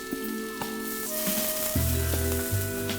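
Thick slices of Spam steak fry in a pan with a bright, continuous sizzle, close and fairly loud, with faint musical tones in the background.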